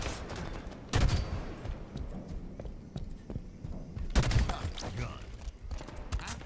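Halo 5: Guardians multiplayer gunfire, with two loud bursts of shots standing out from a steady backdrop of quieter distant shooting and in-game noise, with a player talking throughout.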